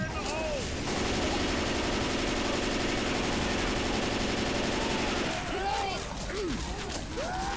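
Sustained rapid machine-gun fire in Left 4 Dead 2, loud and continuous for several seconds before cutting off, followed by scattered impacts and game effects.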